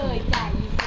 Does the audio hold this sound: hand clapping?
yes